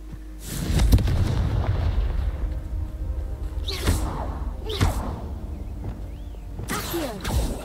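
Fiery Confringo spell blasts from Hogwarts Legacy boom out in a steady stream of whooshing impacts over a deep rumbling game background, several thuds landing in turn across the stretch.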